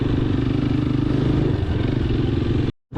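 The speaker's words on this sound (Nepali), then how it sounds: "बाइकको साउन्ड चाहिँ निकै पढिदिन्छ है" Fully restored, modified motorcycle fitted with a handmade silencer, idling with a loud, rapid, throbbing exhaust beat close to the microphone, cutting out briefly near the end before resuming.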